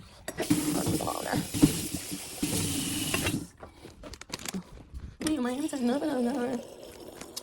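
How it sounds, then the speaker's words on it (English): Bubbly drinking water is poured out and splashes into a sink for about three seconds, then someone talks after the pour. "I'm gonna dump that"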